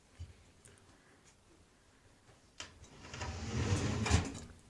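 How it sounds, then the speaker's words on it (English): A heavy metal drawer slides open or shut, a low rumbling scrape that builds over a couple of seconds and ends in a soft thud, preceded by a few light knocks in a quiet room. "Quite a heavy metal drawer, this."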